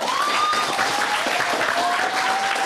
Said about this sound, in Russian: Аплодисменты Александрам.